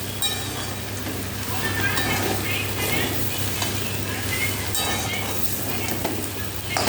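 Mutton keema and chana masala stir-fry in a pan, making a loud, continuous sizzle close up, broken by stirring and scraping strokes, with no clear talk.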